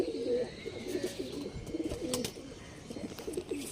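Several Andhra pigeons coo softly and repeatedly, low throaty calls overlapping in a steady murmur close by.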